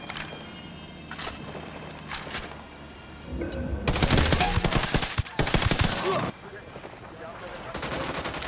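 Gunfire in the video game Ghost Recon Wildlands: scattered single shots, then a loud sustained burst of automatic fire, followed by further rapid volleys, with voices briefly heard between the shots.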